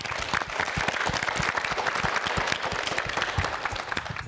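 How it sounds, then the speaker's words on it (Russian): A hall audience breaks into dense, sustained applause, many hands clapping together at a steady, loud level with no pauses from start to finish. "Аплодисменты."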